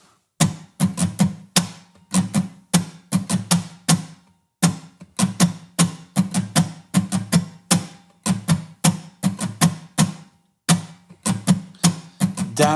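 An acoustic guitar strums a syncopated sixteenth-note pattern, with crisp, evenly paced down and up strokes in repeating bursts separated by short gaps, played alone and close.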